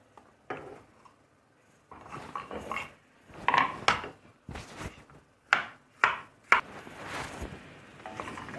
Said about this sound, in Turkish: Şimdi de patatesleri içine bırakıyorum.